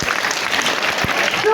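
An audience at a Tirukkural world-record music event claps loudly and continuously, a close, dense burst of applause with a few voices mixed in.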